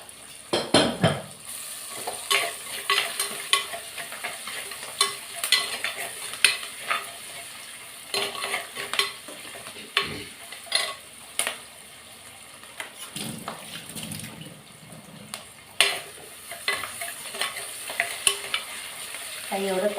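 Salted onions fry in a pan with a steady soft sizzle while a utensil stirs and scrapes against the metal in irregular bursts, close and alone.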